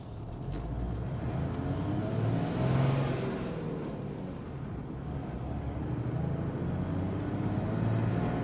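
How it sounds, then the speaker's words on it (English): A Toyota Land Cruiser HDJ78 Troopy with an FTE turbo diesel, known for an exhaust rattle, driving on the road: a steady engine drone swells with a whirring turbo spool as it accelerates, then settles into a continuous cabin hum. "It's got that nice FTE turbo spool."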